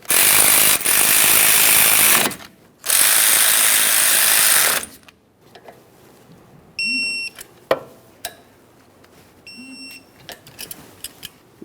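A power tool snugs the caliper slider mounting bolts on the front brakes of a 2008-2012 Jeep Liberty, running in two long loud bursts, followed by quieter clicks, taps and a pair of short electronic beep sequences.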